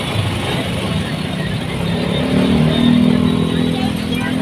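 A motorcycle engine on a tricycle taxi drones steadily up close and swells briefly as it revs, with a rough, buzzy tone. Road and wind noise run underneath throughout.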